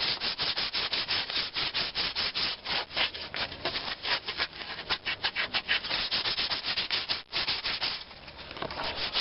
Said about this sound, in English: Just going to hand sand it now.